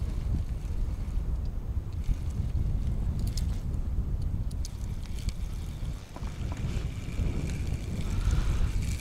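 Wind buffets the microphone in steady, rough gusts over lapping water while fishing for carp, with no voices.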